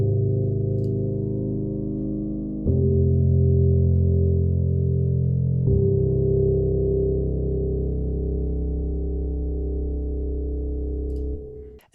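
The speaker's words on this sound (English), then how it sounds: "After 4 bars, I throw in this piano." Sustained piano chords opening a heavy melodic dubstep intro, shifting through a few long held harmonies with a low warm body, steady and alone.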